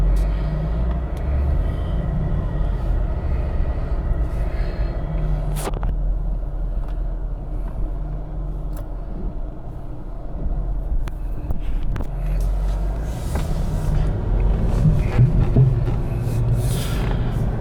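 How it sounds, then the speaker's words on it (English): Loose spare tire hanging beneath a 2005 Jeep Grand Cherokee Limited 4x4 Hemi rattles while driving, a continuous low road rumble from inside the cabin with scattered knocks and clatters that grow busier toward the end. "The noise you hear is the spare tire is a little bit loose."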